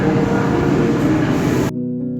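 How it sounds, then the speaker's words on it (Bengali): Garib Rath train bound for Guwahati about to depart, steady rumbling noise of a railway coach and platform filling the scene, then cutting abruptly to a quieter, humming interior near the end. "ট্রেন ছাড়ার সময় 9:45, টাইম প্রায় হয়ে গেছে, এখনই ছাড়বে।"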